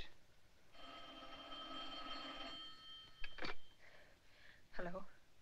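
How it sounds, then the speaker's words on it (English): An old telephone bell rings in a 1946 film scene. One long ring sounds, and voices speak briefly right after it. "Answer the phone."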